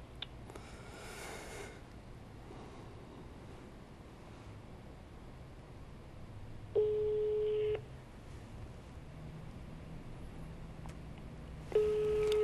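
A telephone network tone for an unavailable number sounds twice over faint background hiss: a steady, clean beep holding about a second, then after a pause of several seconds, a second beep starting.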